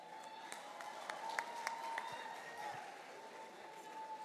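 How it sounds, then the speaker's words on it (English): Faint, distant audience applause at a public relations institute's anniversary conference in Nigeria, a soft continuous patter of clapping with a few sharper claps, set in a large room with a steady tone underneath. "Please give him another round of applause"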